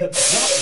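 A sudden burst of spray in the video game PaRappa the Rapper 2's cat wash starts after a brief word, a loud continuous hiss that holds steady to the end.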